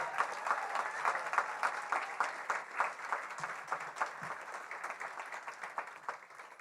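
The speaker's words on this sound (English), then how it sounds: "Let's have one more round of applause for all the speakers." Sustained applause from an audience after a panel discussion, dense steady clapping that holds at a moderate level and slowly tapers, with no speech over it.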